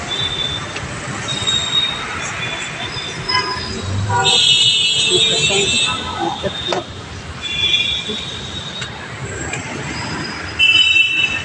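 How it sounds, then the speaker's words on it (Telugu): A metro train passes through Jubilee metro station. Its rumble runs steadily throughout, with high metallic wheel squeals rising and fading and a louder swell near the end, under voices and general street noise. "ట్రైన్."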